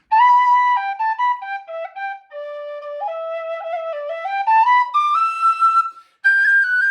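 An Optima whistle, a large low busker-style model, plays a melodic run of sustained notes with rich overtones, loud and close, the tune climbing higher toward the end after a brief pause.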